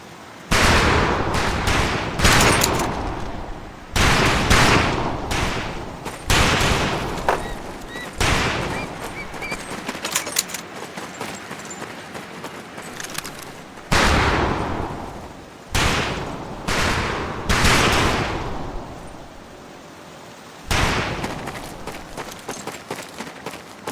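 Rifle fire at a boot camp shooting range in Medal of Honor Pacific Assault, with sharp cracking shots in rapid bursts and clusters separated by brief pauses, loud and close throughout.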